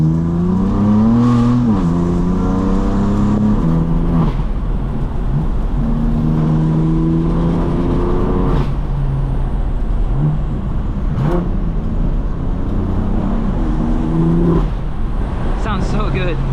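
A BMW F82 M4 with the S55 engine accelerates hard from inside the car, its engine note climbing through repeated rising sweeps with brief shift breaks, loud and steady throughout.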